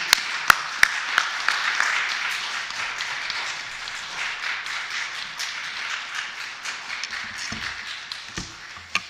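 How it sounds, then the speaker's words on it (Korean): A church congregation claps in welcome during a Sunday worship service, a dense steady roomful of hands with a few sharp close claps at the start, continuing evenly for several seconds. "정말 격려와 수고의 박수로 우리 선교사님 나오실 때까지 박수로 맞이하십시다"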